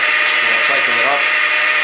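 Hub motor on a dual-drive electric hill-climber bicycle, built with both mid-drive and hub motors, spinning up with a steady high whine and faint rising tones, heard up close and alone.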